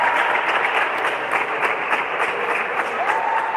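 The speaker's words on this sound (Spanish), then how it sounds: "Y los aplausos del cuerpo técnico de River." River Plate coaching staff applauding during a women's futsal match against Asturiano, their clapping blended into a steady wash of arena crowd noise that holds level throughout.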